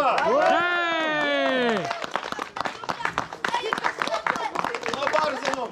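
Applause at a youth event breaks out after a loud cheering shout, a crowd clapping in a dense irregular patter of many hands over several seconds, with voices mixed in.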